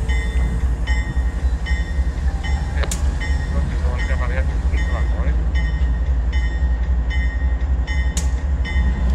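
Train cars and a helper locomotive coupling onto the tail of a train in a rail yard at km 575, with a steady loud rumble, screeching metal around 3 and 8 seconds and intermittent clanks, while radio voices talk over it.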